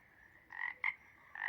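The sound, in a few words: toad croaking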